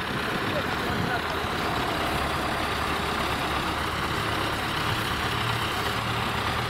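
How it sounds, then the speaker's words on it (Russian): A bulldozer engine idles in a clay field with a constant, low diesel rumble under a broad wash of noise, while voices talk nearby. "Вот он бульдозер пригнал свой."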